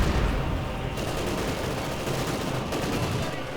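Tank battle in the Company of Heroes 2 strategy game, with an Ostwind and a T-34 exchanging fire: dense, loud bursts of rapid gunfire and rumbling blasts roll on continuously across the short stretch.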